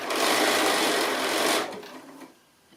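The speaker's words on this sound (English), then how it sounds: "So I'm just sewing the main panel to the main part of the front here." A sewing machine runs steadily for about a second and a half while stitching the main panel of a fabric tote bag, then slows and stops, fairly close and with no talking.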